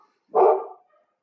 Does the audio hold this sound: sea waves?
no